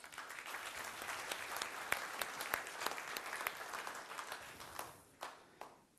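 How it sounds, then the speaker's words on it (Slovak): An audience applauds at a seated event in a hall, a dense wash of many hands clapping that holds steady, then thins into scattered claps near the end. "Takže pre vás patrí obrovský potlesk."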